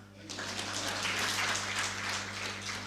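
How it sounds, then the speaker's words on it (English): Applause from an audience at a business masterclass on real estate and dairy farming, a steady wash of many hands clapping together, fairly close and sustained, with a constant low hum underneath. "Clap for her."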